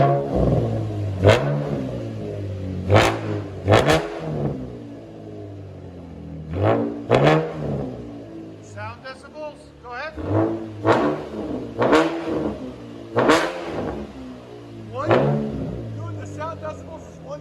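A 2014 Chevy Camaro RS V6 with dual straight-pipe exhaust revs repeatedly, sharp loud bursts rising and falling in a stuttering rhythm, with people talking between and over the revs.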